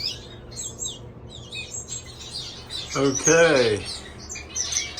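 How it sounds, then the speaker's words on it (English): Pet canaries in an aviary chirp and tweet in short bursts while begging for food, with a louder, closer flurry of calls in the middle and a single brief spoken word over the birds. "the canaries aren't shy about begging for food"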